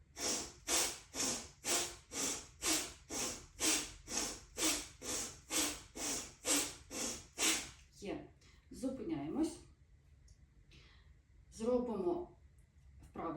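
Rhythmic breathing during a joint warm-up exercise, about fifteen evenly spaced, close, forceful breaths in and out through the nose, followed by a person speaking.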